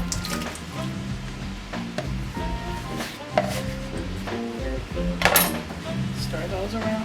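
Green beans and onions tipped into a hot pan, clattering and sizzling with utensil knocks and scraping against cookware, a busy close kitchen scene with a voice talking intermittently.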